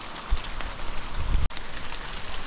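Rain falls steadily on surfaces outdoors, a dense even patter with occasional louder drops, close and continuous with no talk.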